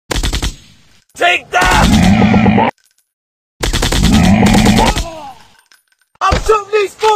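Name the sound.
gunfire in the mobile video game FPS Commando Secret Mission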